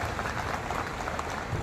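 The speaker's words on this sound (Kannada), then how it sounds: "ಒಳ್ಳೆ ಚಪ್ಪಾಳೆ." An audience at a Basava Jayanti gathering bursts into applause, a dense, even wash of many hands clapping that fills the short moment without a break.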